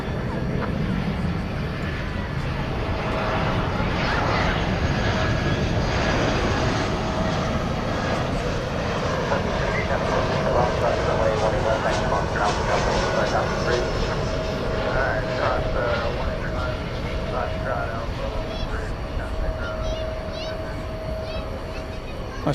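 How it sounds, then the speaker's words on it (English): An American Airlines Airbus A320 jet arriving from Omaha at night, its engine roar a steady broad rumble held for over twenty seconds at moderate distance, with someone talking over it throughout. "Let's take a look at American 2232 from Omaha. It's an Airbus A320."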